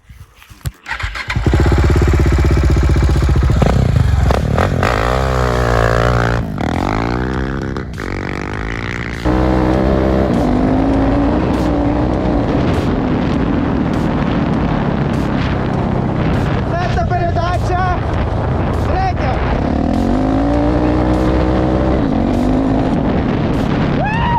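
A KTM SMC 690 R supermoto motorcycle (2015) engine starts, revs loudly with sharp throttle blips, then settles into a steady, close riding drone with repeated rises and falls in pitch.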